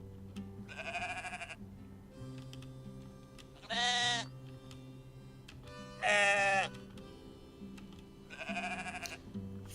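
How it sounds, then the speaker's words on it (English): Sheep in a video game bleat four times, each cry a wavering, nasal baa lasting about a second, spaced a couple of seconds apart over a soft game music bed, with the middle two bleats louder and closer. "Oh, there's sheep."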